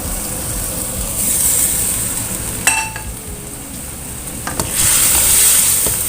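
A spoon stirs mixed vegetables, potatoes and beans for sayur lodeh in a pot, with a soft steady hiss and a few sharp scrapes and clinks against the pan.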